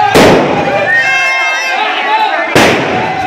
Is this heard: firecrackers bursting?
yes